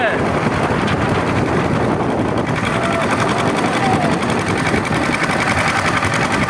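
A pile driving machine works at an outdoor construction site, its loud, steady engine drone continuous and close, mixed with wind rumble on the microphone.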